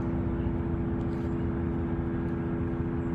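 Steady low droning hum from an AI data center, heard from a backyard many miles away, with constant tonal lines over broadband rumble and no speech.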